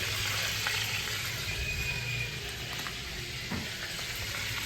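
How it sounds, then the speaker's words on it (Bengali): Cumin seeds sizzle in hot oil for tempering, giving a loud, continuous crackling hiss close up, with a few faint clinks. "এবার হচ্ছে ফোড়ন দেবো হচ্ছে জিরে"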